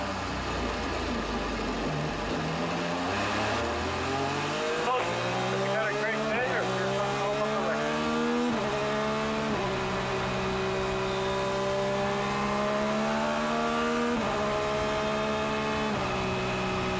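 IndyCar race cars at the Markham street race roar past, engine notes rising and falling through gear changes over continuous crowd and track noise, loud and sustained.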